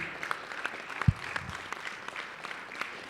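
An audience at a weekly political assembly gives light, scattered applause, fairly quiet and distant, with a single louder thump in the middle.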